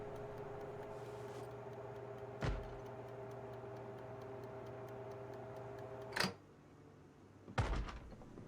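An infected zombie banging on a back door in a survival video game, three separate heavy thuds spaced seconds apart over a steady ticking and low hum, with no speech.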